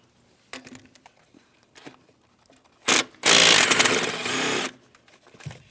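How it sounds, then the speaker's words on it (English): A power tool removes 8mm mounting bolts from the upper intake plenum of a 2015-2025 Ford Transit 250 3.7L V6, with a short burst and then a longer loud whirring run, close up, with quiet handling noises around it. "Now we can move along to removing all the hardware holding our upper intake plenum in place."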